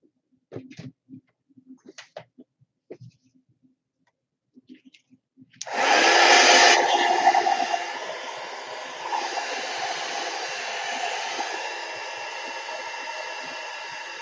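Hair dryer aimed at a wet mixed media painting: a few faint taps and rustles, then the dryer switches on with a loud, steady close-up whoosh that settles slightly and runs on continuously.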